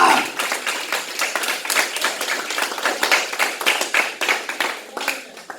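A congregation at a worship service claps in rhythmic bursts, dense overlapping hand claps rising and falling steadily, loud and close, with faint voices mixed in.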